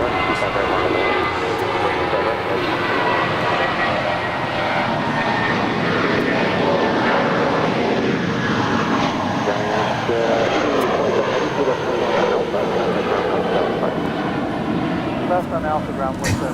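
An airliner takes off from runway 25 right at Los Angeles International Airport, its loud engine roar sustained and steady throughout, close and dominant, with faint voices beneath.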